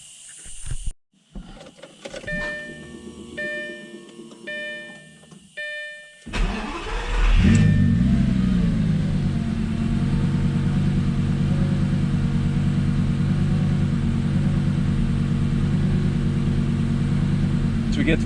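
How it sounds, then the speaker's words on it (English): Lamborghini Gallardo fitted with a Sprint booster: a starter whir and whine, then the engine fires and settles into a loud, steady, close idle with small irregular rises in revs. "And all of a sudden you'll get these random throttle blips for no reason."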